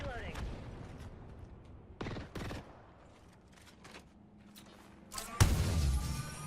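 A charge rifle in a shooter video game fires in bursts. Sharp shots come at scattered moments and a louder rapid volley starts near the end, with quiet gaps in between and a voice speaking at low level.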